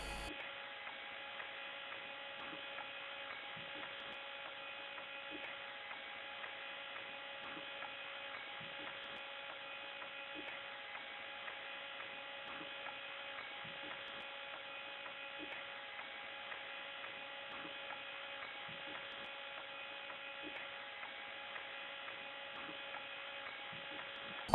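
An electric motor runs in neutral, turning a pulley through a rubber belt, giving a faint, steady electrical hum with a thin whine and light ticking, unchanging throughout.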